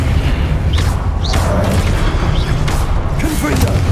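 A Levioso levitation spell is cast in Hogwarts Legacy amid loud combat effects: a few heavy booms and swooshing bursts over a constant low rumble, close and forceful throughout.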